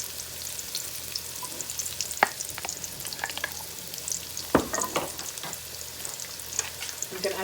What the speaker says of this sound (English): We're going to turn the heat up. So I'm going to add the remaining of this into the pan.